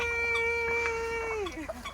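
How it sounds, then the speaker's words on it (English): A farm bird, likely a rooster, lets out a loud, sustained call on a goat farm in Italy that drops off at the end, followed by softer clucking from other fowl nearby. "We have the geese. Just our morning chatter."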